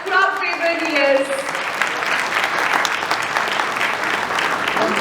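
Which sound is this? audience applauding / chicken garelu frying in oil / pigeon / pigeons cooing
audience applauding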